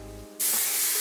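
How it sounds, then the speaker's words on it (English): Hair spray hisses from an aerosol can onto curls on fine, thin hair, one steady close burst that starts abruptly and continues loud. "I don't know if I should spray it before I separate"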